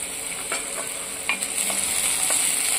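Spring onions and onion fry in hot oil, a steady close sizzle with intermittent stirring scrapes and taps.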